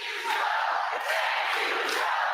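A large crowd at a Maryland rally cheers and roars steadily for President Biden, a continuous wash of voices heard from within the audience.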